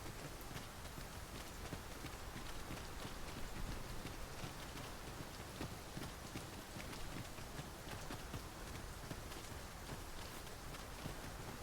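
Steady rain in Dragon's Dogma II, a dense, even hiss of falling water and pattering drops that runs unbroken throughout at a constant moderate level, with no talk.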